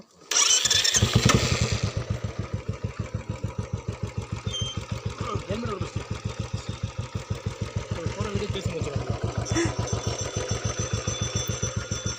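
A motorcycle engine cranks and catches close by, then settles into a fast, even, thumping idle that holds steady to the end, with a brief voice near the start.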